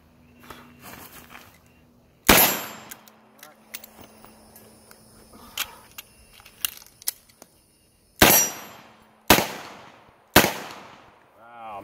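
Sharp, loud revolver shots from a Smith & Wesson 586 fired at a steel target, five spaced reports with ringing metallic tails, separated by quieter handling clicks and a voice speaking between shots.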